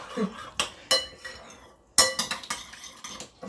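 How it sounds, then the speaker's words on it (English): Butternut squash seeds stirred in olive oil with a metal utensil, a series of close clinks and scrapes against the bowl in uneven bursts, with a short pause between them. "I'm gonna stir them up a bit too."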